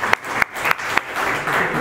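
Audience applause at a youth leadership and entrepreneurship training session, a steady wash of clapping with a few sharper claps, lasting under two seconds.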